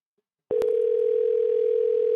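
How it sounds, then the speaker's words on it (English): A steady telephone ringing tone for an outgoing call begins after half a second of silence, a continuous pulsing purr with a brief click at its start, close and clear. "It's ringing this time."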